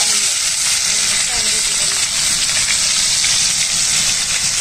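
Oil crackles hard in a kadai as cumin, black cumin, coriander, tomato and raw mango go in for a village dish of small fish and vegetables. The sizzle is a loud, steady, close hiss throughout.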